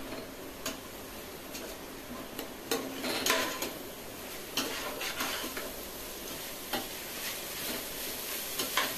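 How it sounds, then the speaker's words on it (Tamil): Schezwan fried rice with paneer and capsicum stirred in a pan over a full flame: irregular clicks and scrapes of the spatula against the metal over a continuous close sizzle, with no talking. "இப்போ நல்லா கிளறிக்குங்க"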